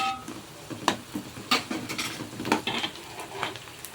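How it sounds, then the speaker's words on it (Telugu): Sliced onions and green chillies fry in hot oil in a pan for a raw mango fish curry. A steady sizzle runs throughout, broken by repeated scraping stirs of a spoon against the pan. "ఈ ఉల్లిపాయలు పచ్చిమిర్చి అన్నీ వేగిపోయినాయి"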